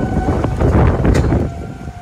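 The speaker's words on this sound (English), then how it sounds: "Tornado sirens have kicked off." A steady wailing tornado siren tone holds under loud gusting storm wind and broad rumbling noise in Great Bend, Kansas, fairly distant and continuous throughout.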